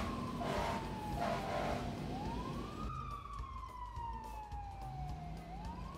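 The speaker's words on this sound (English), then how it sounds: "Look, the fire engine is moving." Cartoon fire engine siren wailing in a steady rising and falling tone, loud and close, with one sweep rising after another and no speech over it.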